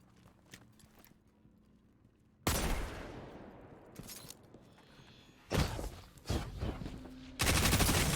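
Submachine gun fire in a video game comes in short, sharp bursts separated by quieter gaps, loud and close, with the final burst running continuously to the end.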